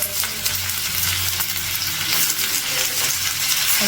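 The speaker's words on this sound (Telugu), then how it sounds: "పచ్చిమిర్చి వేసి ఒకసారి కలుపుతారు కలుపుకొని బంగాళదుంప కూడా ఇప్పుడే వేసుకోవాలి" Green chillies and potatoes sizzle and fry in a pan for poori curry, a loud, steady hiss of hot oil with faint scraping from stirring, continuous throughout with no voices.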